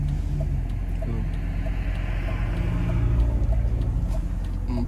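A BMW E46 M3 car idles and rumbles steadily close by with a low, continuous engine drone, rising slightly in intensity toward the end as it begins pulling off.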